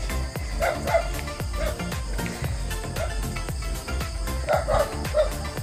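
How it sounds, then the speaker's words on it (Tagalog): Dog barking outdoors in a rural Philippine province, repeated sharp barks at a moderate distance over a steady bed of insect and cricket chirping, with no talking. "So, may aso po ngayon."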